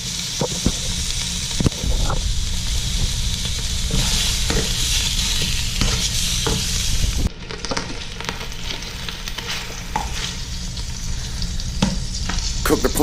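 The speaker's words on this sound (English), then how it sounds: "Cook the pork and bacon for a few minutes." Cubed pork and bacon fry in a big glug of olive oil for a Filipino monggo soup, making a loud, steady sizzle with repeated clatter of stirring and a brief dip midway; no voices.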